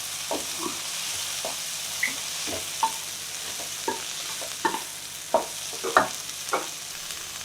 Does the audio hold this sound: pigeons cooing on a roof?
no